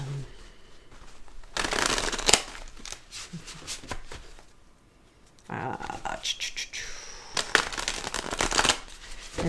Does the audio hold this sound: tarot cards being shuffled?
yes